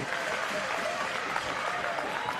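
Spectators at a Frankston versus Camberwell youth basketball grand final clap and cheer together, a dense continuous applause filling the hall.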